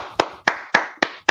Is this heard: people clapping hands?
yes